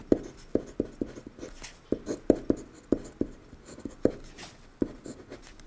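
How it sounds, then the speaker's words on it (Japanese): A heavy wooden-barrel Nohara Koubou mechanical pencil writes on paper, and its lead taps and clicks in close, irregular bursts of crisp knocks. The sound is quiet and intimate, with no talking. "書いている時にコツコツコツコツコツコツコツコツっていうすごい心地の良い感触が指に伝わってくるんですよね"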